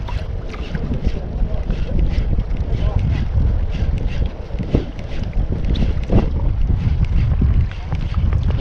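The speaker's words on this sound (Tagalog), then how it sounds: "pag ganitong malakas hangin" Strong wind buffets the microphone with a constant low roar while fishing by the sea in Qatar, mixed with splashing water and muffled voices.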